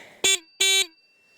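Alarm signal horn on a 2 kW electric bike, two short loud electronic beeps in quick succession, close and sounding alone before fading into quiet.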